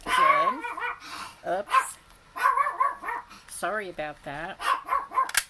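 A dog barks and yips in repeated, sharp bursts close by while someone talks over it, indoors at a craft table during a thunderstorm.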